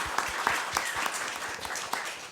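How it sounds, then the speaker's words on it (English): An audience at a social media meetup event claps for panelists in a short, fairly close burst of individual hand claps, uneven and thinning slightly as it goes. "One more round of applause for the awesome Hotel McDonald and CBC for making this happen."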